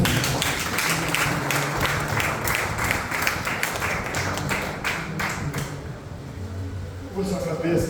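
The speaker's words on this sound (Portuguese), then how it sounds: "Quem pode aplaudir o Senhor?" A church congregation at a communion service claps in a steady, fairly loud rhythm while a voice speaks over it. The clapping thins out briefly toward the end before resuming.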